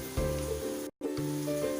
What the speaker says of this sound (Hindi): लाल मिर्च डालेंगे, प्याज डालेंगे और इसको हम तेज आंच पर प्याज को भूनना है।